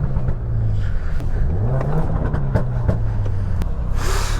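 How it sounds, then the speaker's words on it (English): Several car engines revving nearby, overlapping throaty blips and rising surges with a steady rumble underneath, loud and continuous with no talking. "Oh, everyone's revving."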